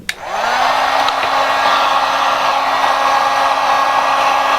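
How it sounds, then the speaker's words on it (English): A heat gun blows hot air over the foam core of a LARP weapon, a loud, steady whooshing hum with a constant drone, starting with a click and running unbroken for several seconds, close to the microphone. "take your heat gun"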